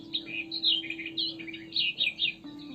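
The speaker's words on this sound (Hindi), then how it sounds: "उनके चहकने से वातावरण में ऐसी मधुर आवाज गूंजने लगती है" Birds chirp in quick, high twittering bursts, several short calls overlapping at moderate distance, above a steady low hum.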